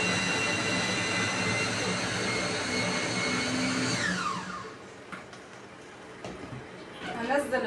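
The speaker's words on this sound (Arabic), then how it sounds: "هنا يا حبايب قلبي هضرب البصل اهوت وافرمه فرمه حلوه ناعمه" A kitchen blender whirs loudly, finely mincing onion for kofta alongside basmati rice, then cuts off and leaves quieter clatter and room noise.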